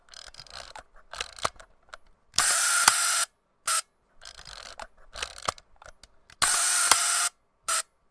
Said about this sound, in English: Anthony, describe the sound the shutter makes when you fire it.